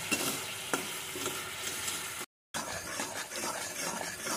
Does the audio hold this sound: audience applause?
no